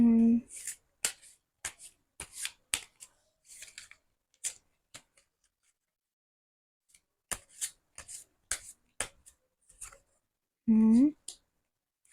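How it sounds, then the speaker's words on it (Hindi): Tarot cards are shuffled by hand in several quick bursts of crisp, papery flicks and slaps, with a pause in the middle and a voice briefly speaking at the start and end. "पहले सारे के सारे कार्ड्स अच्छे से सैफल कर लेती हूँ"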